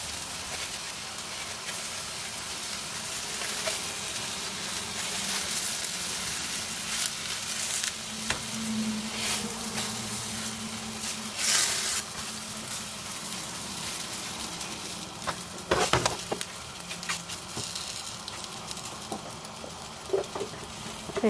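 Börek pastries frying in oil over high heat, a steady broadband sizzle with crackles and spits running throughout, a few louder pops near the end.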